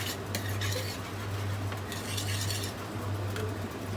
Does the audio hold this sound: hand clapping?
no